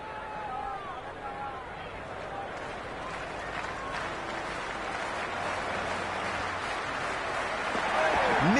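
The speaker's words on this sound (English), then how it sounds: "The crowd are making a heck of a lot of noise even before the first ball's been bowled." Spectators in a Cricket 24 stadium keep up a steady roar and cheer before the first ball, a dense, wide wash of crowd noise that builds slightly toward the end, with a commentator talking over it.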